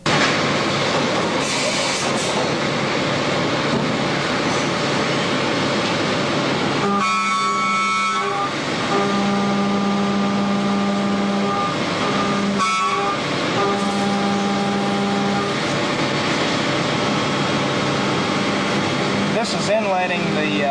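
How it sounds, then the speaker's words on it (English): A machine mills bedding blocks from a solid aluminum billet in a stock factory, giving a loud, continuous mechanical drone with tonal whines and shifts, and a voice talks over it. "This is inletting the bedding blocks out of a solid billet of aluminum. We bought this machine just to make bedding blocks."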